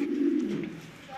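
Pigeons coo in a loft of large, top-quality birds, a low, soft throaty call rolling steadily through the first half second before easing off, close by with no talk.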